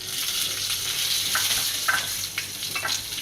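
Dry chilies, mustard seeds, cumin and urad dal sizzle in hot oil for black channa sundal, a steady close frying hiss with a few small pops and stirring scrapes.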